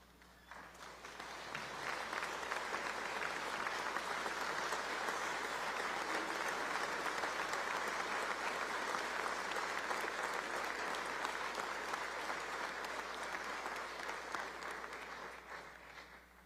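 A sustained round of applause inside the Louisiana Legislature chamber for a victim's family, rising quickly into a broad, steady roar of many hands that holds for over ten seconds before tapering off.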